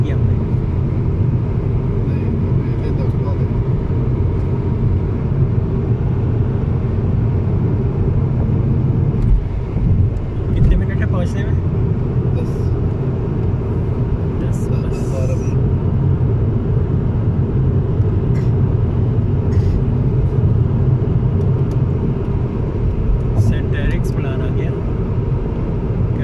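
Steady, loud road rumble from a car driving near Stockholm, continuous low tyre and engine noise throughout with a few faint clicks on top.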